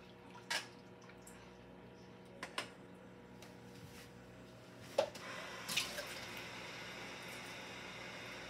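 Water runs from a kitchen tap as gravy is made, a faint steady flow with a few soft clinks and splashes standing out.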